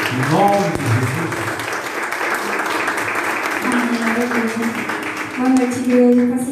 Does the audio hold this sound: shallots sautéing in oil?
no